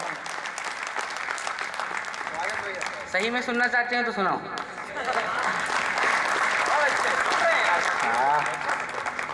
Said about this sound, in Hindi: आप लोग एक बार जोरदार तालियां